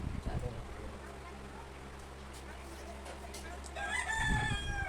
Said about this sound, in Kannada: ಕೋಳಿ ಕೂಗ್ತಾ ಇರಬೇಕು